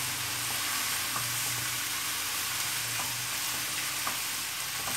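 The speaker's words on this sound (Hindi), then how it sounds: "अब करते हैं इनको मिक्स।" Ingredients seasoned with chili are stirred and mixed in a hot, sizzling pan. Steady loud frying hiss runs throughout with occasional scraping strokes of the spoon, and no one speaks.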